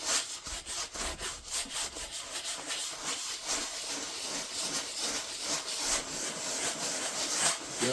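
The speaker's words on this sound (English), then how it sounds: "use circular strokes and just really grind that clear gel into the canvas" A paintbrush grinds clear gel into a canvas with circular strokes, giving a steady, close, rasping scrub that repeats in a continuous rhythm for several seconds with no voice.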